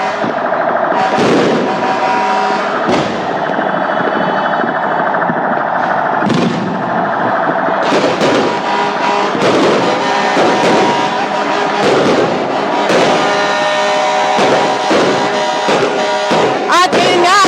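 Loud New Year fireworks in Pasig pop and crackle in rapid volleys, sharp bangs layered over a continuous roar, growing denser toward the end.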